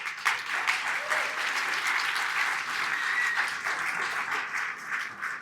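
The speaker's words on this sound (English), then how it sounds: "please, one more round of applause to Gala." Sustained applause from a gala audience fills the room, an even wash of many hands clapping at moderate distance with no pauses.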